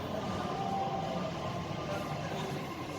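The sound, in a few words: Doha Metro Gold Line train arriving at station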